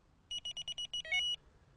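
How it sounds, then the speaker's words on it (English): A Delkim TX-i fishing bite alarm emits a quick run of six or seven short, evenly spaced electronic beeps ending in a slightly longer tone, clear and close in a quiet room. "so just activate the first buzzer."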